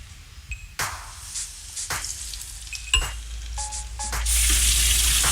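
Breaded cajun chicken tenders deep-frying in hot oil, a steady close sizzle broken by sharp pops and crackles, swelling into a loud continuous hiss near the end.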